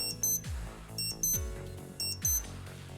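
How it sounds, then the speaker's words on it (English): Countdown timer alarm on a Breitling Aerospace wristwatch, a faint, thin electronic beeping in short repeated bursts at a steady rhythm, with no one talking. "An alarm will sound when the countdown timer reaches 0."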